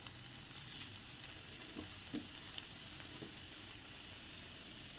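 Fried leftover-roti noodles with coriander or onion are stirred in a pan, giving a soft steady sizzle with a few faint scraping touches, quiet and close.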